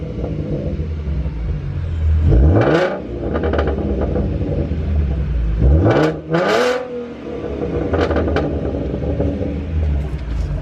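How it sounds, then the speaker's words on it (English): A car with a Roush exhaust, a Dodge Scat Pack, revs hard twice, each rev climbing steeply and falling back, then settles into a rumbling idle with lighter blips, loud and close with no talk. "You want to hear my car?"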